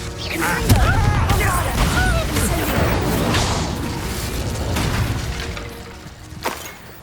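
An Expulso spell blasts in the video game Hogwarts Legacy, a heavy booming crash with shattering debris that rumbles and fades over several seconds, followed by a smaller thud near the end, with faint voices underneath.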